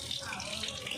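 Tap water runs steadily into a sink while pomegranates are washed, a brief close splashing stream.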